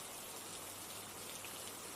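Steady rain falls throughout, a dense continuous hiss of drops on surfaces, fairly quiet and even, with no voices over it.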